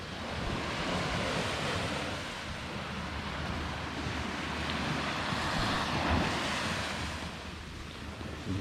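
Ocean waves washing steadily onto a Maldives beach a short distance away, a continuous broadband surf roar with gentle swells, mixed with wind buffeting the microphone; no voices.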